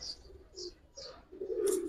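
High flyer pigeons coo softly and intermittently nearby, low throaty calls mixed with faint higher chirps in a quiet setting.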